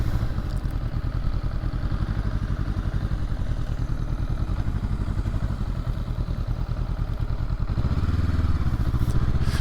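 2023 Honda SCL500 Scrambler motorcycle being ridden at slow speed, a steady loud engine drone with rhythmic throbbing and wind, close and continuous throughout.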